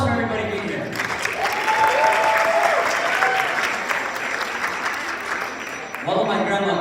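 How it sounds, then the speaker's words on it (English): An audience at a student culture night comedy show breaks into sustained applause with crowd cheers, rising after a moment of talk and continuing loud before the speaking voice returns near the end. "Well, let's get a round of applause for everybody being here."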